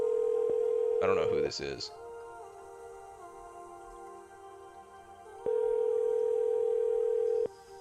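A steady telephone dial tone plays while a disconnected caller is being rung back, sounding in a long stretch at the start and again near the end, with a brief burst of speech and noise between.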